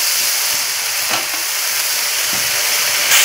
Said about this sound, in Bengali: এখন আমি মশলাটা ভালো করে কষিয়ে নেব।